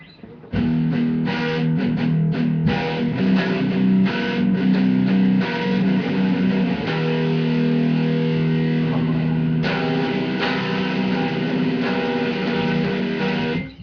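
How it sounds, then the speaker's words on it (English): An instrument played through a heavy distortion effect, sustained chords ringing loud and continuous for most of the stretch, with a short quiet start and no talk. "Let's try that on distortion."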